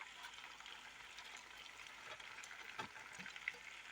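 Small fish frying in a pan, a faint, even crackling sizzle held throughout with a few soft stirring knocks.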